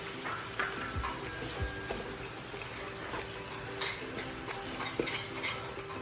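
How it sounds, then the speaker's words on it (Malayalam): Onion fries in oil with salt for Kerala chicken biryani, a soft steady sizzle under scattered scrapes and clinks of a spoon stirring against the pan. "അതിന് വേണ്ടി സവാള എണ്ണയ്ക്കകത്തോട്ടിടും. വഴറ്റുന്നതിനകത്തോട്ട് ശകലം ഉപ്പിട്ട് കൊടുക്കുക."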